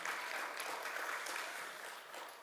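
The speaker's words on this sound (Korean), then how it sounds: "우리 다시 한번 베드로 남성교를 위해서 사랑과 격려의 박수를 보내도록 하겠습니다." A congregation at a Wednesday church worship service applauds in a steady, sustained round of many hands clapping, filling the room evenly throughout with no voices over it.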